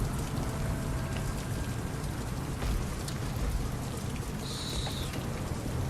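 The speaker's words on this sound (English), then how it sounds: "The rain, if you look up, that's kind of neat." Steady game rain pours in a shooter level, an even wash of dense drops with a brief high tone near the end, no one talking.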